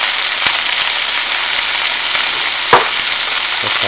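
Cabbage and chicken stir-fry loudly in a hot pan with salt and pepper, a dense continuous sizzle close up, with occasional utensil clicks and one sharper scrape.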